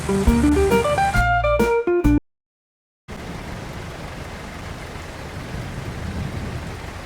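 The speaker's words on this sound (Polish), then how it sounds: "już słyszę, że grzmi" Rain of an approaching thunderstorm over a harvest field hisses steadily and loud after a short silent break, following a stretch of tonal music, with a dull rumble of thunder mixed into the downpour.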